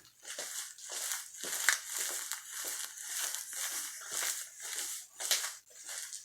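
Steady rhythmic crinkling and rustling of a plastic-backed adult diaper, rising and falling with each step, close and fairly quiet with no voices.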